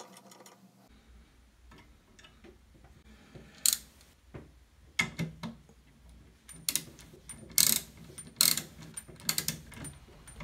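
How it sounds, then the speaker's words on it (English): A click-type torque wrench tightens CP Carrillo connecting rod bolts with ARP2000 fasteners to 43 ft-lb, giving close, sharp ratcheting clicks and metallic ticks in scattered bursts with pauses between, no talking. "Here we are now torquing it to 43 foot pounds and check stretch"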